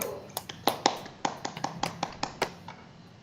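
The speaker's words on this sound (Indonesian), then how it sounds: "Beri aplaus dulu untuk kelompok 1." A small classroom group applauds a student group, a short run of about a dozen sparse, distinct claps in a quiet room, fairly close and unhurried.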